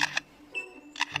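A forest bird mimics a camera shutter, producing two pairs of sharp, close clicks separated by a short whistled tone, with nothing else around it.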